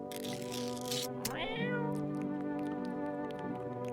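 A cat in the video game No, I'm Not a Human gives a loud, drawn-out meow with a rising then falling pitch. It follows a burst of noise and plays over a steady tonal background hum.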